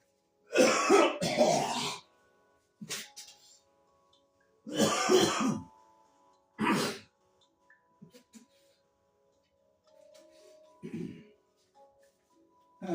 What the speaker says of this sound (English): I got to go off screen to cough.